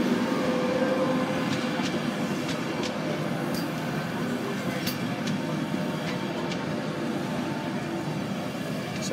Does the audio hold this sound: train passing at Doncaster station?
yes